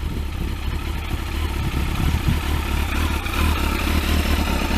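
A Kawasaki ZX12R motorcycle engine runs close by, a loud, steady low rumble with a mechanical clatter that swells slightly toward the end.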